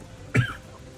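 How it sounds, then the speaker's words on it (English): A single short cough, close and fairly loud, standing alone against quiet room noise. "Talking a lot, I tend to cough a little bit."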